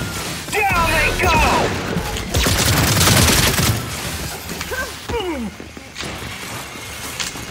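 Bursts of gunfire and crashing impacts ring out from the video game Gears 5, loud and dense, mixed with game effects and a player's excited voice.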